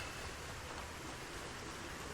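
Steady rain in the video game Project Zomboid, a dense, even hiss of falling water that fills the whole clip without letup and with no voices over it.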